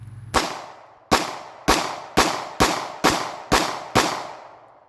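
Springfield XDS 9 3.3 pistol firing eight sharp shots outdoors, evenly spaced at about half-second intervals, each loud crack trailing off in a brief echo.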